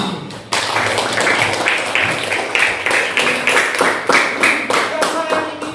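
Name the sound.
class clapping for Hani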